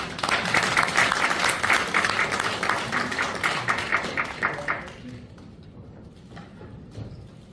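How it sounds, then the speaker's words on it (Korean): An audience at a seminar bursts into dense, loud applause for about five seconds, then thins to a few scattered claps that fade out. "여러분 큰 환영의 박수를 부탁드립니다."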